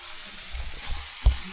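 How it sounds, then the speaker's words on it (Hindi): Onions fry in a pan in a village kitchen with a quiet, crackling sizzle, some low rumble, and a brief sharp knock near the end, with no one speaking. "यहाँ पे हमारा प्याज पकते हुए"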